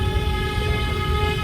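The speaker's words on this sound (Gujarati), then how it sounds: "આપણે આ અજમેરનું રેલવે સ્ટેશન છે." A train rumbles at Ajmer railway station, producing a steady low drone with sustained tonal hum throughout, close and continuous, with no voices.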